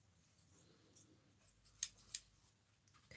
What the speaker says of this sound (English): Just cut that corner off.